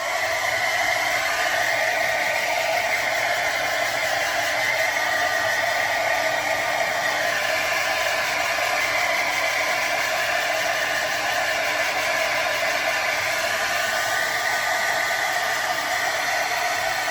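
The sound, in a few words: hair dryer blowing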